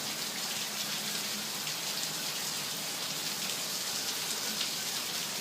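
Steady rain falls outside a patio during a thunderstorm, a soft, even hiss of drops on surfaces that holds faint and unbroken throughout.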